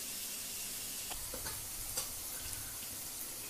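Kurdai with onion being stirred and fried in a pan: a steady sizzle runs throughout, broken by a few scattered scraping clicks of the spoon against the pan, nobody talking.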